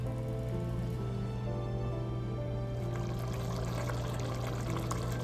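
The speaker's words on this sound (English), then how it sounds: "Strain the rice." Half-cooked basmati rice being strained, with its cooking water pouring off in a steady, continuous gush that swells louder partway through, up close with no talk.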